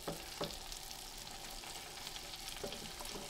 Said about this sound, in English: While these vegetables are sauteing